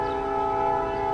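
A train blares its sustained horn nearby, a loud steady chord with the low rumble of rail traffic beneath.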